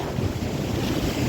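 Sea surf and rushing saltwater along the coast of Cyprus, a steady loud wash of breaking waves with heavy wind buffeting the microphone, no voices over it.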